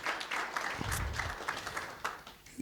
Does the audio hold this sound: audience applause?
yes